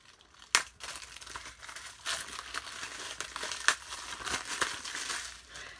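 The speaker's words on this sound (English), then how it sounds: "And then we'll get the plastic wrap off." Plastic wrap is peeled and crumpled off a Home Alone 2 Blu-ray case, giving close, quiet crinkling and crackling with a few sharper snaps over several seconds.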